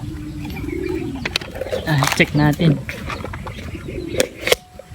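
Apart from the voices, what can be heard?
racing pigeon cooing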